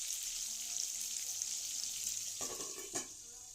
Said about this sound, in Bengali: এখন মাছের মাথাটা আমি ভালো করে লাল লাল করে ভাজা করে নেব, অবশ্যই সেটা ঢাকা দিয়ে।